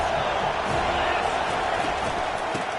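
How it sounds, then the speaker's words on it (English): A football stadium crowd roars steadily and loudly at a video game match on second down, a dense continuous wall of cheering and noise that holds throughout without breaks. "this crowd is turning it up a notch"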